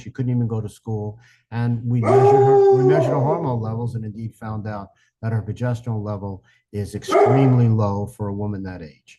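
A dog barks and lets out drawn-out, howling yelps in two bursts, fairly close, mixed in with continuous speech.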